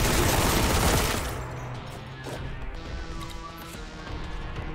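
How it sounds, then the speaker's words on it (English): A rapid mag dump from a gun at Chaos Space Marines in Warhammer 40,000: Boltgun: a loud, dense burst of shots and crashing impacts for about a second, then a quieter lingering rumble. "Just love the mag dump into the Chaos Space Marines."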